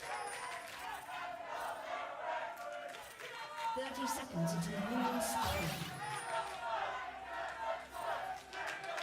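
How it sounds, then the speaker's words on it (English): Rowdy crowd at a League of Legends esports match, the LCS 2019 Spring TSM versus Team Liquid game, a steady roar of voices and cheering under continuous excited casting. "It's a rowdy crowd."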